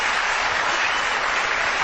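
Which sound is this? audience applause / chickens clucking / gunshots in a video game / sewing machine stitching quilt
audience applause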